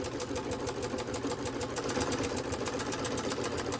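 A home sewing machine back-stitches on a bath mitt, a steady close mechanical whir with a fast regular needle rhythm, heard alone and at even volume throughout.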